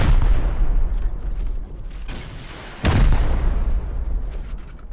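Rocket blast in the survival game Rust, a loud boom with a sharp onset near the middle, set against a constant roar of low rumble that fills the whole stretch.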